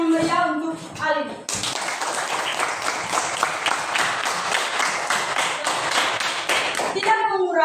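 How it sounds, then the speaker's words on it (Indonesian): Pupils in a classroom clap together in a lively, sustained burst of fast, dense claps lasting several seconds, with children talking just before and after. "Mari kita beri tepuk tangan yang meriah untuk Alin."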